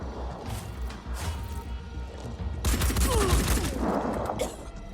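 Return gunfire during a Phoenix Point tactical battle: a dense crackle of shots and impacts builds in the second half and grows louder, with faint talk underneath.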